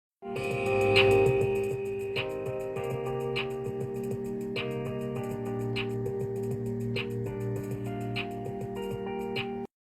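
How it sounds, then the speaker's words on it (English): A steady drum beat with crisp, evenly spaced hits over a sustained tonal backing, playing continuously at moderate loudness with no voices. "Then threw in the drums, and the drums sound like this."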